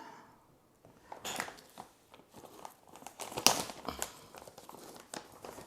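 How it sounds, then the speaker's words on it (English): A bag of Pro Mix vermiculite being ripped open up close, with loud crinkling plastic and a few sharp tearing bursts over about four seconds. "And here I can rip this one open."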